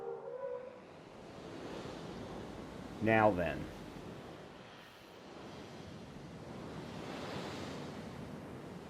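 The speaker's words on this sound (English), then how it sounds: "I love hearing the water in the background." Water waves lap and wash continuously in the background of a Jurassic World Evolution 3 park, a soft steady surf murmur while someone speaks briefly over it.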